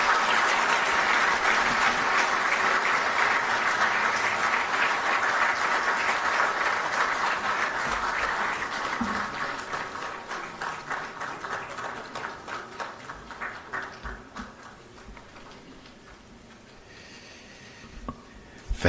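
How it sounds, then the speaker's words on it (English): Sustained applause from an audience at the swearing-in of Ghana's new Chief Justice at the presidency, loud and dense at first, then thinning to scattered claps before it dies away. "Another round of applause, please."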